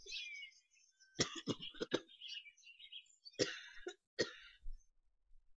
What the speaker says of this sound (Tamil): ஆத்தாவுக்கு எப்போதான் இருமல் நிற்குமோ?